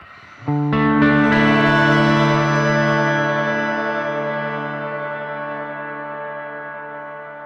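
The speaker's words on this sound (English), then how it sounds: "It's actually a shimmering reverb." A single guitar chord through a Zoom MS-50G MultiStomp shimmer reverb, set to maximum, rings out with a shimmering, octave-up reverb that blooms and sustains, slowly fading over several seconds with no talking.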